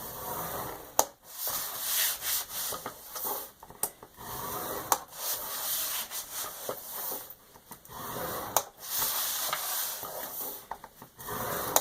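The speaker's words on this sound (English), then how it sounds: "we're going to score the bottom at 1 inch on all 4 sides" Cardstock being scored on a scoreboard for a window box card, with repeated soft scraping and rubbing strokes broken by sharp taps and clicks, close and fairly quiet.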